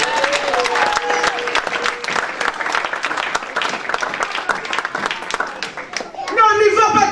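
Church congregation bursting into sustained applause and cheering, a dense crowd clapping throughout with voices mixed in, ending as music or singing rises near the close.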